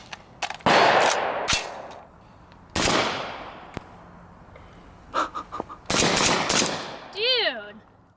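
Several loud, sharp gunshots from a PWS MK116 MOD2 AR-15 rifle chambered in 7.62x39 ring out in separate bursts at an outdoor range, and a voice speaks briefly near the end.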